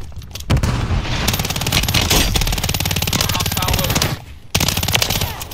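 Rapid automatic gunfire in Call of Duty Warzone rattles in long, dense bursts, loud and close, with a brief pause before firing resumes near the end.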